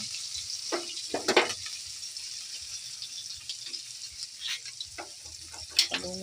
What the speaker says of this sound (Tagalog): Kaya magprito ko og bangos.